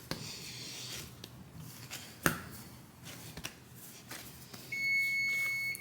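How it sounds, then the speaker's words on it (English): A kitchen timer beeps near the end as a steady high electronic tone, following scattered kitchen clatter and light tapping. "Oh, that's my timer."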